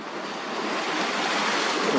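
Ocean waves break and wash onto a beach in a steady, loud roar of surf, with some wind noise in the microphone.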